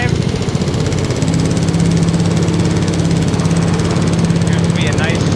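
A John Deere riding lawn mower engine runs loud and close on a test drive, a constant rough mechanical drone with a steady pulsing throb throughout.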